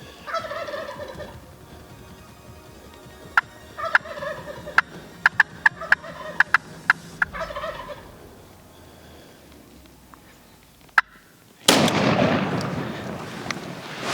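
Merriam wild turkey gobbling in the Missouri River Breaks of Montana, with several rattling gobble bursts in a row, moderately close, followed by a louder rush of noise near the end.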